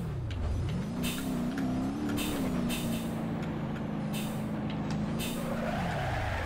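A car spinning a 360 donut drift in BeamNG Drive, the engine droning steadily with pitch swells while tires hiss and scrub in repeated bursts, loud and continuous throughout.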